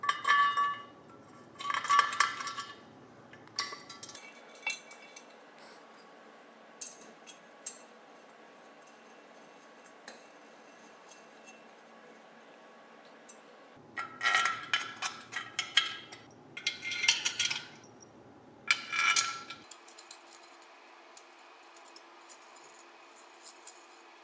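Small metal screws and washers clink and tick as they are fitted onto a 48-inch WinSpin giant prize wheel stand, in scattered bursts of close, sharp clinks separated by quiet gaps.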